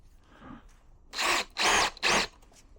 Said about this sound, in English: So, pre-drill these.